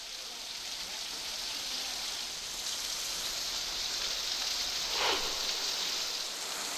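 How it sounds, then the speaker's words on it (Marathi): A waterfall at Rautwadi near Kolhapur, swollen by monsoon rain and plunging 50 to 60 feet, gives a steady broadband rushing hiss, distant and continuous, with no breaks. "हा धबधबा 50 ते 60 फुटावरून खाली कोसळतोय।"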